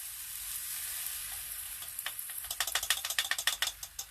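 Beaten eggs seasoned with salt and pepper hit a pan of cooking tomatoes: a soft, steady hiss swells into rapid, crackling sizzle bursts over the last two seconds, with no talking.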